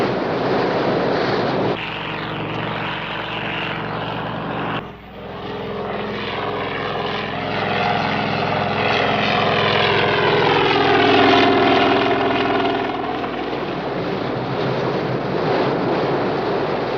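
Coast Guard helicopters and boats converge on a sea search area, with a steady, loud rotor and engine drone that swells and throbs in the middle before holding on, no voices over it.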